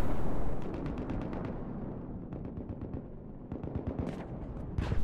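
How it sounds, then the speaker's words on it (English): A tank fires in Battlefield 4 with a heavy opening blast and a rumbling tail. Rapid volleys of gunshots in clusters follow, near and loud, with more sharp bursts near the end. "There's a tank shooting at me."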